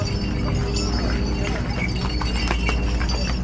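Horse hooves clop steadily along the mountain trail to Kedarnath under constant outdoor crowd noise, with voices talking nearby.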